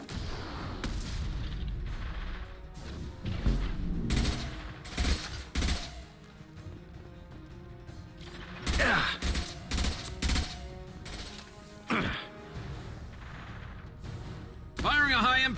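Gunfire in Mass Effect 2 comes as repeated loud bursts of shots and blasts scattered through a busy combat scene, with voices talking over and between the volleys.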